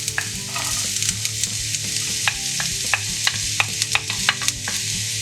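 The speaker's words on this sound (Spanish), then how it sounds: "Un poco de aceite en una sartén y cuando esté caliente ponemos la parte blanca de la cebolleta" Chopped white part of spring onion frying in hot oil in a pan, a steady loud sizzle with light stirring clicks and scrapes scattered throughout, no voices.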